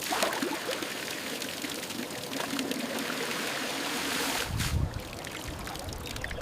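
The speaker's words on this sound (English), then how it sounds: "Water flows again." Rainwater runs freely through a cleared pipe into a cliffside cistern basin in the Himalayas, a steady close rushing and splashing flow that holds even throughout, with a brief heavier gush near the end.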